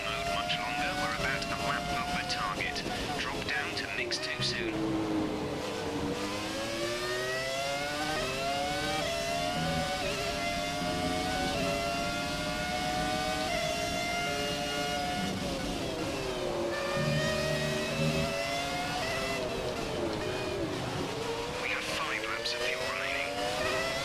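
Screaming V10 engine of a racing car in the F1 2017 video game, revving high and sweeping up and down through gear changes, with a commentator talking over it.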